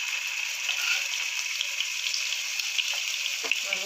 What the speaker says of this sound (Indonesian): Lalu kita oseng-oseng seperti ini ya, sampai baunya tercium ya teman-teman